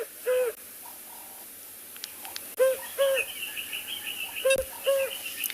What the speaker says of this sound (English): The African cuckoo, Cuculus gularis, which is a very common species this time of year